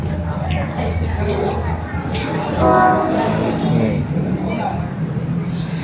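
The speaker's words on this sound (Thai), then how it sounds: "นี่ครับสถานีรถไฟตลาดภูครับครับ" Rumbling train noise with clanking and hissing of brakes at Talat Phlu railway station in Bangkok, fairly close, while people talk over it.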